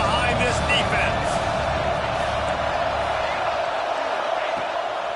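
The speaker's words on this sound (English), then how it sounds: "Big 3rd down as the crowd gets behind this defense." Football stadium crowd roaring for the defense on a big third down in a football video game, a steady dense wall of cheering noise at strong level throughout, with commentary voices speaking over it.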